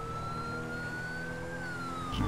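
A police car siren in the video game GTA V, a loud wailing tone that slowly rises and falls, steady and close, with a short thump near the end.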